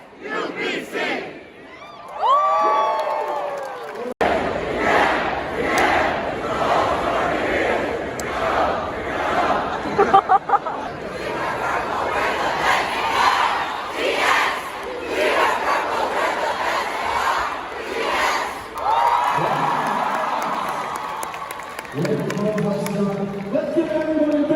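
A large student crowd at a university first-week event shouts rhythmic chanted cheers in loud unison, the bursts repeating over and over with brief breaks and scattered individual voices between chants.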